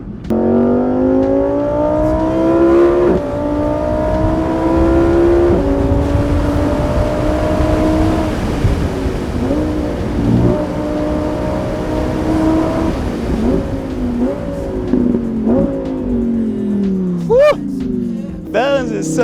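Lamborghini Huracan EVO RWD Spyder 2020 driven in sport mode, its engine revving and climbing through repeated gear shifts, loud and close, with someone talking over it for much of the time.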